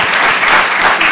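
A conference audience at a business forum's closing address claps warmly, a brief, dense burst of applause with no voices over it.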